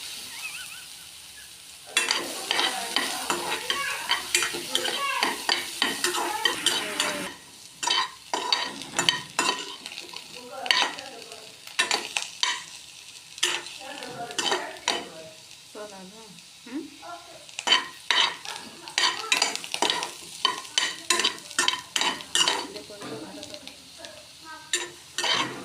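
Chayote chutney ingredients sizzling while being sautéed, with a spoon repeatedly scraping and stirring the pan in an uneven rhythm, close and prominent, with a voice speaking at times.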